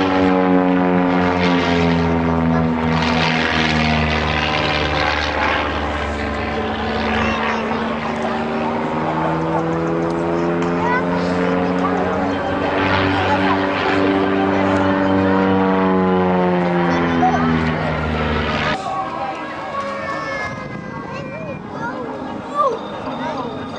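At an airshow, a small propeller plane makes a knife-edge fly-past down the runway, its loud buzzing engine drone rising and falling in pitch as it passes close, then fading, while a person talks over it.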